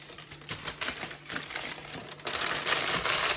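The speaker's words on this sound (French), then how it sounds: "je recouvre mon gâteau, mon moule de papier sulfurisé" Parchment paper crinkles and rustles as it is pressed over a cake mould set in a Thermomix steaming basket, with a run of close, dry crackling taps that grows a little louder toward the end.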